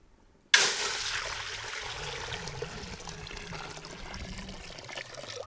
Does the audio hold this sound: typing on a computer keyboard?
no